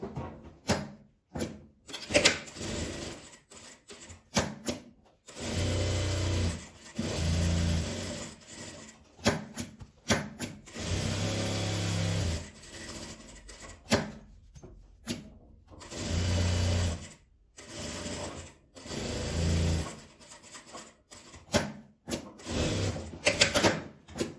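A sewing machine stitches around a fabric mask-holder wallet in several whirring bursts of a few seconds each, separated by short pauses and small handling clicks, close and fairly quiet with no speech.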